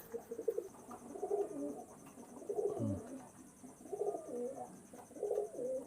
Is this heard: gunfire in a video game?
no